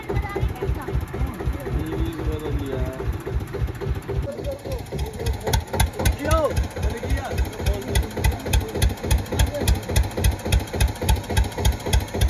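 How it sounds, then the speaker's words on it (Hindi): A tractor engine runs steadily while it tows a stuck Mahindra XUV300 out of sand, a continuous low rhythmic throb with engine pulses throughout, and voices talking over it at times. "देख लो गाइस ट्रैक्टर बुला लिया है"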